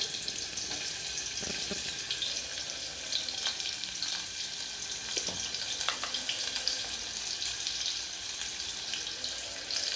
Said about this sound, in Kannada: ಈಗ ಇದನ್ನು ಚೆನ್ನಾಗಿ ಫ್ರೈ ಮಾಡಬೇಕು ನಾವು ಈರುಳ್ಳಿ ಕಲರ್ ಚೇಂಜ್ ಆಗಬೇಕು ಗೋಲ್ಡನ್ ಕಲರ್ ಆಗಬೇಕು